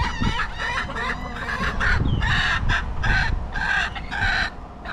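Hens and roosters in the Florida Keys, with repeated loud crowing bursts over continuous nearby clucking and squawking from several birds.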